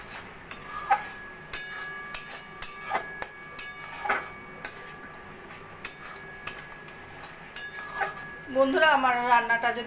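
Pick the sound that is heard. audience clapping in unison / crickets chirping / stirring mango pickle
stirring mango pickle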